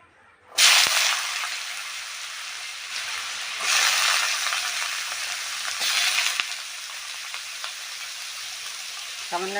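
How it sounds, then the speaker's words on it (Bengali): Beetroot pieces hit hot oil left from frying potatoes, with a loud sudden sizzle that surges again as they are stirred, the frying hiss steady throughout. "এবার আমি আলু ভাজা করেছিলাম সেই তেলটাতেই বিটগুলো ভাজা করে নেব।"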